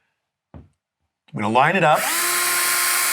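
A power drill pre-drills a hole into drywall for mounting a makeup light, whirring up and then running steadily and loudly after a brief spoken line and a small tap.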